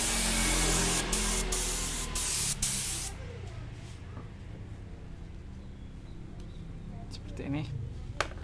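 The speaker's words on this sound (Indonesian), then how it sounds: "Oke, kita semprotin air." Water sprayed onto a Honda CB150R motorcycle body panel during painting and sticker prep, a loud steady hiss for about three seconds that cuts off, followed by quiet background with faint handling noises.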